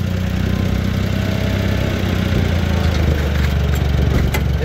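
A tractor engine runs at a steady idle on a farm before rain, giving a continuous loud, low rumbling drone that stays even throughout with no talking.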